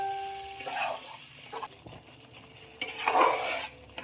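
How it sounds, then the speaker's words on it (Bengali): A spoon scrapes and stirs a yogurt mixture into a hot pan tempered with nigella seeds and green chillies over a steady sizzle, with clinks of metal and a louder burst of frying near the end. "কালো জিরে, কাঁচা লঙ্কা ফোড়ন দিয়ে এবার ওই মিশ্রণটা দিয়ে দেবো, দিয়ে খুব ভালোভাবে নাড়বো"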